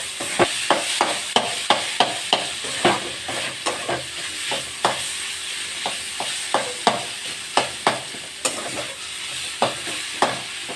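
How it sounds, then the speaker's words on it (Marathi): Chinese Hakka noodles are stir-fried in small batches. Rhythmic spatula strikes and scrapes against the pan repeat about twice a second over a loud, constant sizzle. "हे पहा, नूडल्स अशा प्रकारे हलवायचे म्हणजे सगळीकडे मिक्स होतात"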